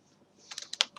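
Keystrokes on a computer keyboard while entering a server login: a short burst of a few quiet, crisp clicks after a moment of near silence, with no talking.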